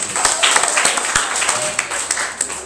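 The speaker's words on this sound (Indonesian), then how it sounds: "Beri tepukan untuk Tuhan." A church congregation at a Christmas service claps steadily, a dense patter of applause that carries on without a pause.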